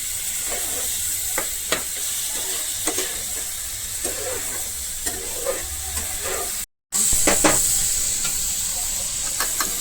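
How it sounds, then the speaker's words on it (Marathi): Onion and tomato gravy with salt and spices frying in a pan, a steady close sizzle and hiss with scattered stirring clicks, briefly cut out for a moment before resuming. "कांदा टोमॅटोची ग्रेव्ही करून घ्यायची हे बघा अशी मस्तपैकी फ्राय करून घ्यायची"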